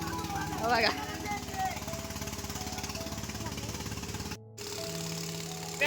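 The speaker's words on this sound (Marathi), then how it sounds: "आणि पंप स्टार्ट झालेला आहे" A well's water pump runs with a steady rhythmic thumping drone, briefly cutting out near the end before resuming.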